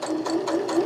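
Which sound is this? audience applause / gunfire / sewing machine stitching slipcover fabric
sewing machine stitching slipcover fabric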